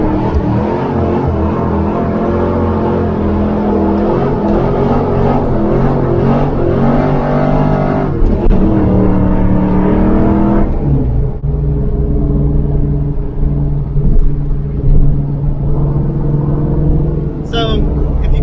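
A Ford Foxbody car's engine revs hard and loud, rising and falling through repeated hits close by, with people talking over the rumble.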